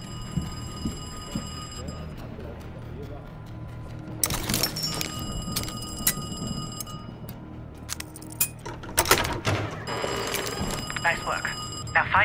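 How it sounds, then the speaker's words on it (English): A telephone rings in the Call of Duty Black Ops Cold War video game, with bright metallic bell bursts in three separate stretches over a low ambient background. "I'm about to phone Krause's apartment."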